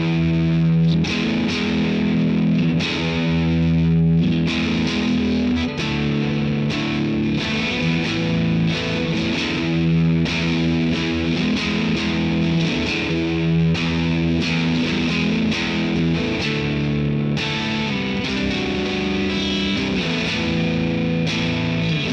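A distorted electric guitar through a VOX AC10 amp's digital reverb plays sustained chords and notes, each ringing out with a spacious reverb tail, loud and continuous without any talking.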